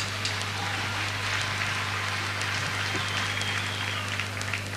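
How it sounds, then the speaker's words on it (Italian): An audience at a live concert applauds in a dense, even wash of clapping that holds at a steady level throughout, over a constant low electrical hum. "Un bel applauso, per favore."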